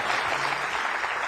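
Short burst of steady audience applause at a comedy awards show, a dense wash of clapping filling the room without a break.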